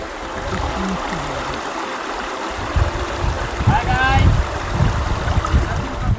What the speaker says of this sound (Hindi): और ये जलधारा यहाँ से तेज़ होती हुई और यहाँ से और आगे बस कुछ ही दूर यहाँ से वाटरफॉल है।